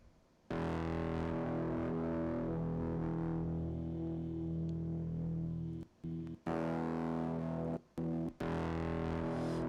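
Electronic music run through a distortion plugin, a thick, gritty sustained tone with a steady buzzing body that cuts out briefly a few times near the end.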